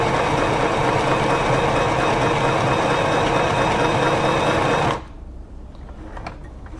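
A Singer Pixie Plus sewing machine stitches at a loud, steady whirring hum for about five seconds, then stops abruptly and leaves a quiet room with a few faint ticks.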